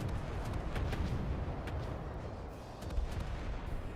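Distant, muffled booming naval gunfire in the video game Battlestations: Pacific rumbles continuously, with scattered heavy thuds over a constant low roar, no voices.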